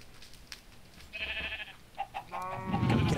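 Cows in a video game low and bleat in a few short, nasal calls, with a deeper, louder call at the end over faint background noise.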